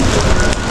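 Heavy rain pours down outdoors beside a dumpster, a dense, loud and continuous hiss of drops striking surfaces with no pauses.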